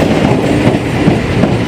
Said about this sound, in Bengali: লোকাল ট্রেন ঢুকছে